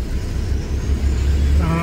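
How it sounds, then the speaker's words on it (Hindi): Heavy road traffic on the Mumbai to Ahmedabad highway heard from inside a truck cab, a dense low engine rumble throughout, with a faint tonal whine near the end. "ट्रैफिक भी हो हद ट्रैफिक है"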